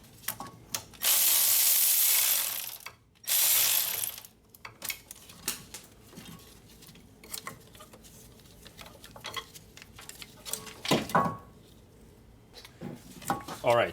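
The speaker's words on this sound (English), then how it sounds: "I'm gonna undo this bolt over here that holds the brake caliper hose on the strut" Ratchet working loose the bolt that holds the brake caliper hose to the front strut of a Toyota Highlander, heard as bursts of quick metallic ticking close by, with two longer broadband rushes early on and scattered knocks between the click runs.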